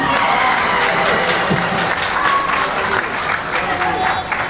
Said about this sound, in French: et l'ami de votre président que je vous demande d'applaudir